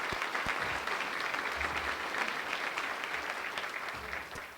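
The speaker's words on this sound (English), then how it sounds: "let's give the Kansas Leadership Center a round of applause." Audience at a spring general assembly applauding: dense, sustained clapping from a large crowd, steady and fairly loud throughout, with no voice standing out.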